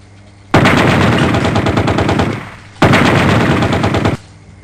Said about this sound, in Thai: เดี๋ยวยิงให้ดูครับยิงจากข้างครับ